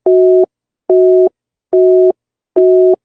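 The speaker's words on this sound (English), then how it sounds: "Let's try to call her again." A phone busy signal beeps in four steady, evenly spaced bursts of a dual tone while a call is retried, loud and clear with silence between pulses.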